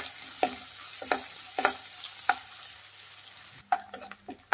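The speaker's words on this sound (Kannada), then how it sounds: "ಈರುಳ್ಳಿನ ಫ್ರೈ ಮಾಡಿ." Chopped onions and curry leaves fry in oil in a pan, a steady soft sizzle broken by repeated scraping stirs of a spoon at roughly even intervals.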